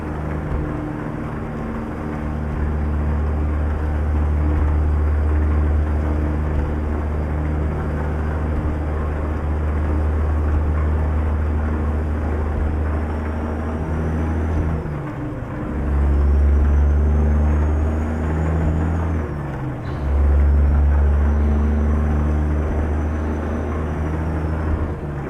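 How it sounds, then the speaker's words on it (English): Heavy diesel truck engine in American Truck Simulator roaring loud and steady with low harmonic rumble, dropping briefly around gear changes, with deep engine-brake (jake brake) drones after each break. "listen to those jakes, man."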